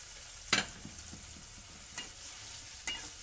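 Eggplant ketokak with water, salt and palm sugar being stirred in a pan, three distinct scraping spoon strokes spaced about a second apart over a low steady simmering hiss.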